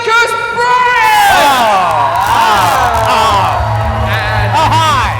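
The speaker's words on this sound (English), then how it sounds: "please give me a massive, massive cheer" A large convention crowd at a sci-fi comic con panel in London cheers, whoops and yells loudly and continuously, a dense roar of voices close and filling the hall.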